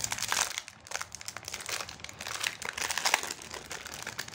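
Steady crinkling and rustling of plastic packaging as a black full-metal SVBONY SV28 scope adapter tube for a Canon camera is unwrapped, continuous and close.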